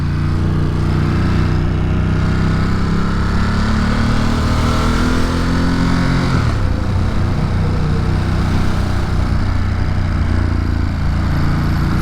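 Motorcycle engine running loud and close while riding, a continuous drone with changing pitch, easing off briefly and then picking up again.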